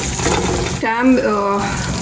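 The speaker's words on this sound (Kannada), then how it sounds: "ಹುಳಿ ನೀರು ಹಾಕ್ತಾಯಿದ್ದೀನಿ" Sour water pours into a cooking pan of onions on a home stove, a steady trickle and splash running throughout while a voice briefly sounds over it.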